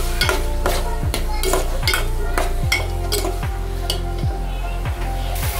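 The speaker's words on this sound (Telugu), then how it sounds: "ఆయిల్ ఎక్కిన తర్వాత ఉల్లిపాయ ముక్కలు, పచ్చిమిర్చి వేసుకొని ఫ్రై చేసుకుందాం." Onion pieces and green chillies fry in hot oil, a steady loud sizzle broken by rhythmic scraping strokes of a spoon stirring against the pan, with no talking.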